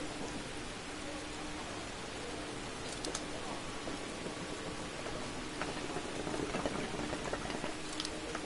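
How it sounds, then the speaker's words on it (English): Rain in the Dirt Rally 2.0 racing game on a Wales rally stage, a soft, continuous patter with occasional sharper drips and clicks, fairly faint and steady. "And the first stage is going to be in the rain."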